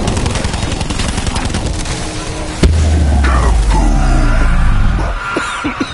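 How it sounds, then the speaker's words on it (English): A huge Call of Duty explosion bursts in with a sudden sharp crack, then a deep, heavy rumbling boom that rolls on for a couple of seconds amid chaotic gunfire-like crackle before fading out. "That was a very large explosion."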